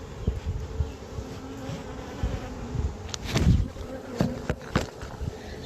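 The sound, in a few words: honey bees buzzing around hive frames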